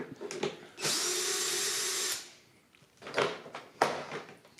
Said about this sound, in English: There's the screws that will remove the filter. Off they come.